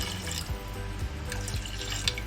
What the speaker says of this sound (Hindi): इसमें 1 बाउल पानी और ऐड कर रही हूँ मैं